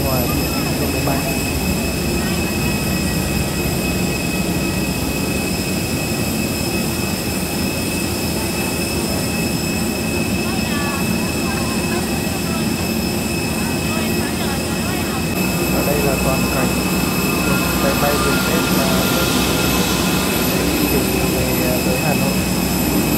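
Jet engines of an airliner roar steadily and loudly on the airport apron as passengers line up to board, a constant broadband drone with a high whine that swells slightly near the end.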